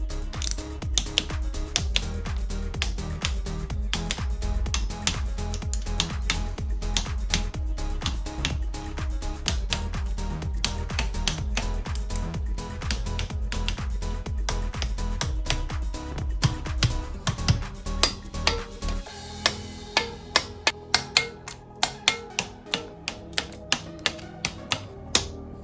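A ratchet wrench tightens bolts on a 2003 Specialized Rockhopper bike during a restomod build, giving a dense run of rapid mechanical clicks that thin into sparser, separate clicks near the end.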